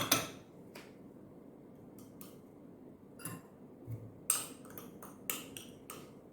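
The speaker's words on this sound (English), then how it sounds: "just give a slight whisk" Flour, baking soda and salt whisked in a bowl for banana bread: a handful of light, quiet metallic taps and scrapes of the whisk against the bowl, irregular and spaced apart over near silence.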